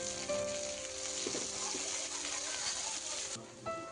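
Paneer pieces frying in hot oil give a steady, close sizzle with crackling throughout, briefly dipping near the end; a voice speaks faintly beneath it.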